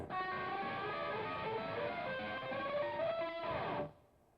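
Electric guitar plays a bebop-style riff in a guitar lesson, run through a very tight slapback digital delay; a steady, sustained phrase of plucked notes continues for about four seconds, then stops abruptly, leaving a faint tail.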